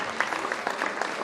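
Parents in the audience at a school annual prize distribution applaud with steady, brisk clapping from many hands, fairly close and without voices over it.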